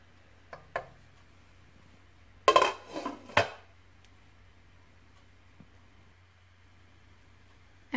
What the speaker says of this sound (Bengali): একটু ভালো করে নেড়ে চেড়ে আবার ওটাকে ঢাকনা দিয়ে ঢেকে দিব আমরা।